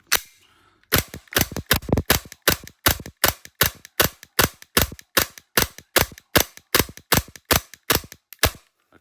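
Tokyo Marui G19 airsoft pistol with a Combat Master slide set fired about twenty times in a steady series of sharp, loud cracks, each with a quick slide clack, spaced roughly every third of a second, with no talking.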